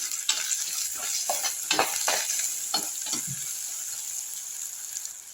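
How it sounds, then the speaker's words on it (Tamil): Onions and green chillies sauté in a clay pot, a steady high sizzle running throughout with a spoon scraping and stirring in short bursts, close and moderately loud. "நல்லா வதக்கி விட்டுருங்க பாருங்கள் பச்சை மிளகா பாருங்கள் எப்படி வதங்கிட்டு பாருங்கள்"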